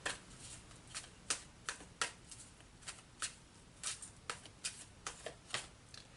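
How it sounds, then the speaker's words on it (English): A deck of Archangel oracle cards is shuffled by hand. Quick, soft riffling slaps repeat in an uneven patter for about six seconds, close and quiet, with no talking. "I'm going to pull a couple Archangel cards for you"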